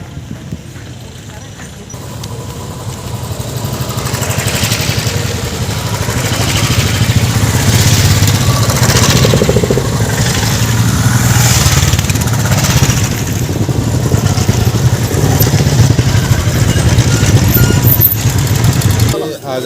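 Motorcycles of a bike rally running from Pashupatinath Temple in Nepal to Kashi Vishwanath Temple in Varanasi roll past in a steady, continuous engine drone that builds after the first seconds, with voices mixed into the din.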